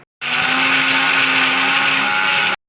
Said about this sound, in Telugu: ఇలా చల్లారినాక మిక్సీ వేసేసుకుందామండి.